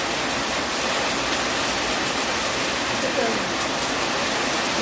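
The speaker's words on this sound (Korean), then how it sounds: "비가 많이 오네" Heavy rain pours down in a dense, continuous hiss that fills the whole clip, loud and close, with no other sounds standing out.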